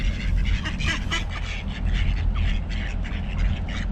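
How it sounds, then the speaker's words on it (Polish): Ducks on a small pond quack repeatedly while being fed, a close, busy series of nasal calls coming in bursts over a low rumble of outdoor noise. "Dam kaczkom trochę jeść."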